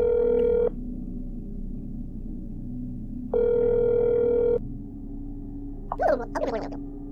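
A telephone call tone in the horror game That's Not My Neighbor rings in two steady, long electronic bursts separated by a pause, followed by a short burst of a voice answering.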